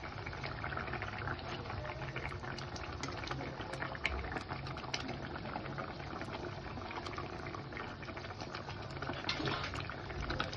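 Omelette curry gravy simmers in a pan with a steady, soft bubbling hiss that runs unbroken and fairly faint, with no talking.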